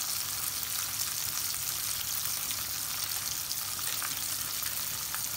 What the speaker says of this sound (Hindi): सो दोस्तों ये प्रॉन्स गोल्डन ब्राउन होने तक हमें फ्राई करने हैं